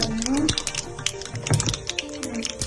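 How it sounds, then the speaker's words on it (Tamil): Mustard seeds hit hot oil in a pan while a fish curry is being made. They give a busy crackle and sputter of rapid pops close by under steady talk. "இந்த மீன் குழம்பு வைக்கிறதுக்கு கடுகு போடுறேன்"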